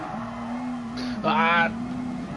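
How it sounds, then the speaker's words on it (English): A car engine in the GT Sport video game on the Nordschleife drift challenge holds a steady drone, then briefly falters and surges at a mistimed gear change amid wheelspin, before settling back into its even note. "bad timing of a change of gear then, so it just killed the revs and the wheel spin"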